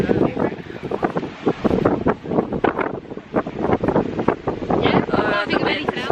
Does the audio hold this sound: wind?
yes